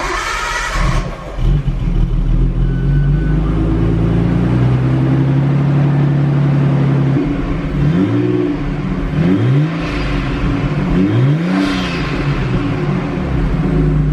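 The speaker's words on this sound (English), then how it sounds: "We'll do a good cold start on the stock exhaust" A Nissan R32 Skyline engine cranks and fires up from cold, settling into a deep steady idle, then revs up and down several times with a throaty stock exhaust note.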